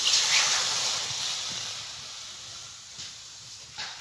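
Water poured into a hot wok hisses loudly at first, then the steamy hiss gradually fades into a softer, steady rush, with no talking.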